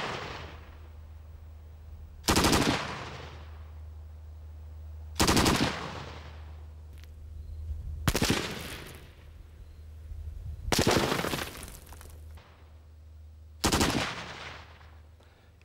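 Bursts of Minimi machine gun fire strike a concrete block wall, five loud, close rapid-fire strings spaced a few seconds apart over a low steady rumble.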